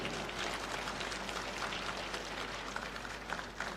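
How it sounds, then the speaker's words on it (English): Applause from an audience at a university pharmaceutical sciences college golden jubilee event, a steady dense patter of many hands sustained throughout at moderate distance. "Big round of applause, please."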